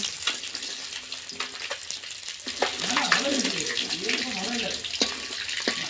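Two kilograms of small pond rohu fish frying in oil sizzle steadily at moderate volume, with stirring scrapes and clatter, while a voice talks over part of it.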